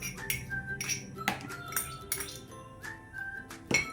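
A bowl of grated egg handled in a home kitchen, with several sharp clinks and taps of crockery and utensils spread irregularly through the clip, fairly close, no talking.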